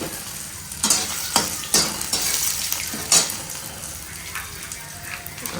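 Raw chana dal poured into a hot frying pan with curry leaves and chillies, crackling and sizzling in oil with intermittent stirring scrapes and sharp splutters, close and moderately loud.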